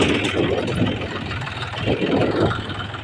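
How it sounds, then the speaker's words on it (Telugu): A tractor engine runs with a steady low rumble and a faint knocking texture, fairly loud and close throughout, with no talk. "ట్రాక్టర్ వస్తుంది. ఇప్పుడు నేను ఎక్కాలి ట్రాక్టర్."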